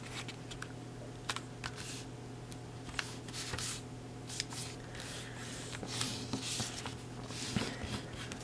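Origami paper being folded and creased into a 4x4 grid for an envelope, making faint, scattered crinkles and soft swipes over a steady low hum, quiet and close.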